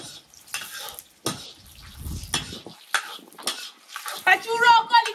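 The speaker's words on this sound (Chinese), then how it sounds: "把葱姜生姜锅里倒。 啊哈哈，把葱生姜锅里倒。 炒一炒。 炒一炒啊，炸出香味来" Scallion and ginger get stir-fried in a wok: a spatula scrapes and clanks against the metal in uneven strokes, with a sizzle of hot oil rising toward the end, close up.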